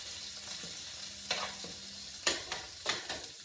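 Scallops and shrimp for a cognac dish sizzle steadily in a frying pan, a close, continuous hiss broken by a few sharp clinks and scrapes of a utensil stirring them.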